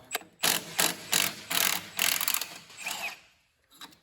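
Hand ratchet loosening a bolt on a VW Bug front beam of a dune buggy chassis, several short bursts of rapid clicking in a steady rhythm, close and fairly loud, with no talk.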